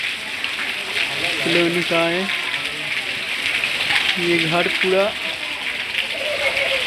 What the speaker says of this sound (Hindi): बारिश छूट ही नहीं रहा है।